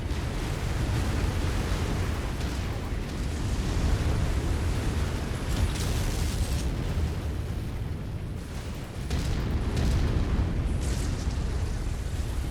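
Continuous heavy rumbling blasts and roaring gunfire from the MechWarrior 5 video game fill the whole stretch loudly, with a brief dip near the end before the barrage resumes.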